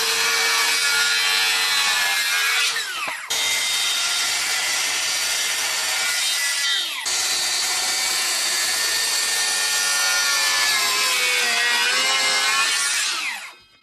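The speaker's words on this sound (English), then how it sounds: "he comes in and he cuts it with the saw" Power saw cutting through wood on an Alaska construction site, a loud continuous grinding cut that runs almost without pause for about fourteen seconds, briefly dipping twice before stopping abruptly at the end.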